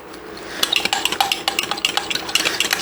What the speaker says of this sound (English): And stir it together. Make sure there's no lumps.